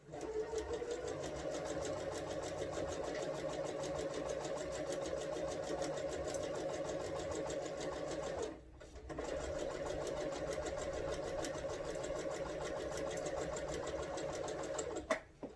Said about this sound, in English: set it underneath, ready for your needle to grab, and start sewing.